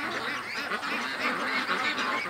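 Ducks crowded at the front of their pen, quacking and honking in a busy, overlapping chorus, close and steady throughout with no talking.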